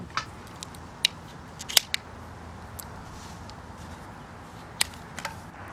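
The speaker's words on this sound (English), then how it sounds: "you just need to cut some of this plastic out" Plastic sheeting being cut for a PVC raised-bed low tunnel: scattered sharp scissor snips, single and in small clusters, close but fairly quiet against a low background hiss, with no talking.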